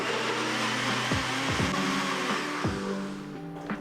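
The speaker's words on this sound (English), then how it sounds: "Put the chopped cucumber along with fresh mint leaves, a little bit of ginger, salt and water into a blender" A blender whirs loudly and continuously as it blends chopped cucumber, fresh mint leaves, ginger, salt and water, its motor pitch dipping and rising several times as the blades work through the mixture.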